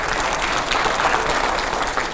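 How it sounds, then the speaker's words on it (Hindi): Loud, dense audience applause at a televised Hindi debate show, steady continuous clapping filling the whole short stretch with no pause. "आइए अब अगला सवाल, जोरदार तालियां हो।"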